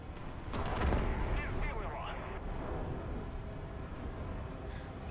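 A MiG-15bis in the War Thunder video game fires S-21 rockets, heard as a dense roaring rumble of launches and explosions over steady engine drone, loud and continuous throughout.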